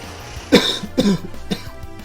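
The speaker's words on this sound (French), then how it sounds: "j'ai un chat dans la gorge, il va falloir que je tousse" A person coughs three times in a row, close and fairly loud, each cough short and harsh.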